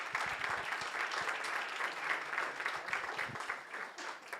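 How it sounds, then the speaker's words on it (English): An audience at a design systems meetup applauds the speakers with dense, steady clapping. It is moderately distant, lasts the whole stretch, and no one talks. "A round of applause for the speakers."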